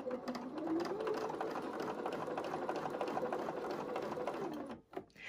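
A domestic sewing machine chain-stitches small quilt pieces in one steady, continuous mechanical run, fast needle chatter holding an even pace before it stops abruptly near the end.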